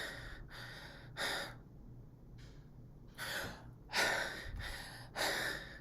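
A voice imitates Biot's breathing: loud, deep gasping inhalations and exhalations in clusters separated by quieter pauses, close and alone without speech.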